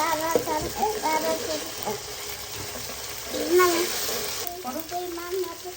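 Onion, ginger and garlic frying in a pot for bhuna khichuri, a close, wet sizzle that swells and dips with intermittent stirring, with some faint tonal sounds over it.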